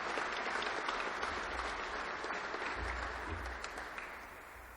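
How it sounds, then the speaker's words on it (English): An audience at a graduation ceremony for waterways conservation officers gives a round of applause, with steady, moderately distant clapping that slowly fades out. "give all those individuals a quick round of applause"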